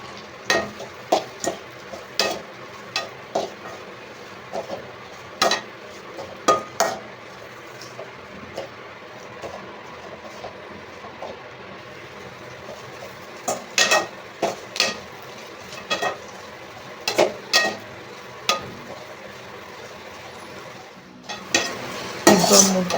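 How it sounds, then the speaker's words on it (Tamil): Carrot and capsicum stir-fry in oil for noodles, a spatula scraping and clacking against the pan in repeated close strokes over a steady low sizzle, with a louder clatter at the end. "கேரட் கொஞ்சம் போட்டு எண்ணெயிலே நல்லா வதங்க வைக்கணும்."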